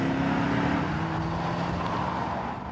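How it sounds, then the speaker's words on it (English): The hand-built V8 of a 2003–2006 Mercedes W211 E-Class AMG runs at a steady, loud drone with a sustained low engine note and no clear rev spikes, fading slightly at the end. "there's a hand-built engine under the bonnet with a fantastic voice"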